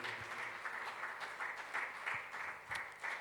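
A church congregation applauds and cheers, a dense, even patter of many hands clapping at a moderate distance, continuing steadily for a few seconds.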